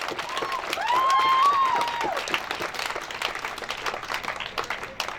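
Protest crowd at a Black Lives Matter rally in Scranton applauding and cheering a speaker, sustained dense clapping with shouts and a whistle, loud and steady throughout.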